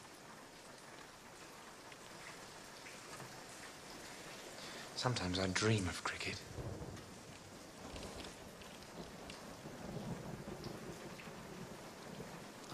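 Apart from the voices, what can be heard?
rain falling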